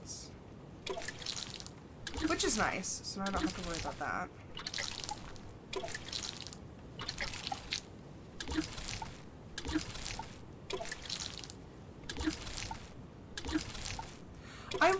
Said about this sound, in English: I want to go water my crops just so that I don't forget.